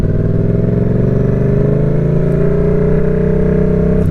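A motorcycle ridden by a beginner at steady throttle, its engine a loud, continuous drone that climbs gradually in pitch as it accelerates through the gear, heard close and alone without talk.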